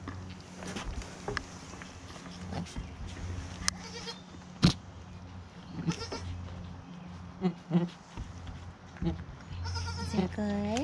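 Goats, including baby goats, bleat several times at a moderate distance, short wavering calls scattered over a steady low background hum, with some faint talking.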